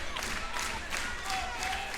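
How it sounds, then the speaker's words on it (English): A wrestling crowd at an AJ Styles versus Abyss match claps in quick staccato bursts, a dense steady wall of hand clapping and crowd noise filling the arena throughout. "Crowd, staccato hand clapping, showing their support here to try and get Abyss to mount a comeback"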